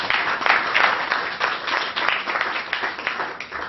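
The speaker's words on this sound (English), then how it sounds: "Give yourselves a round of applause" Warm applause from an audience of parents and young honorees at a prize ceremony, a thick wash of many clapping hands rising and falling slightly, fairly near and without talk.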